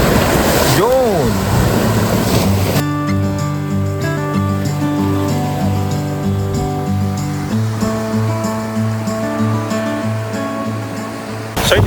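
Steady roar of surf washing ashore at a beach on Jomalig, Quezon, continuous and fairly loud, with a low droning hum running underneath and a voice briefly at the start.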